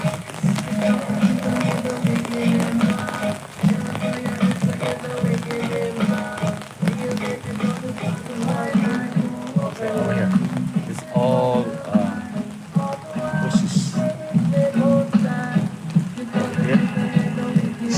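Steady rain falls over a garden, a soft even patter spread across the whole stretch, mixed with a droning tonal background and no pauses.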